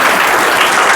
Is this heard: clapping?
yes